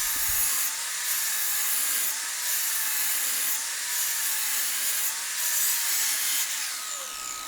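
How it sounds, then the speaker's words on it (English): A miter saw cuts 4.5 cm thick Nordic pine beams into stair steps, a loud, sustained high whine and grinding rasp that holds steady for several seconds and then ends. "I'll start by cutting all the steps to 80 cm width using the miter saw."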